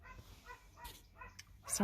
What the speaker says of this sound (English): about my neighbor's dogs. They seem to always know when I'm filming.